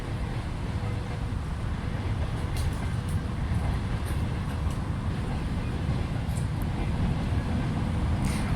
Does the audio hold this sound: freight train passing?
yes